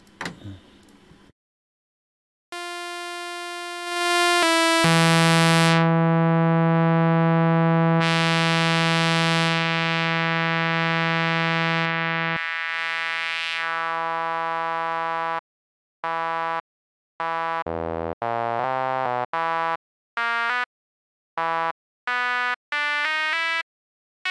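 A synthesizer tone is shaped over time: a long sustained pad that swells and holds, then short repeated stabbed notes with gaps between them.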